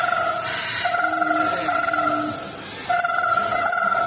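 Parrot-like bird at a bird park show imitating a ringing telephone: two bursts of trilling electronic ring tones separated by a short pause, close and clear, with faint crowd background.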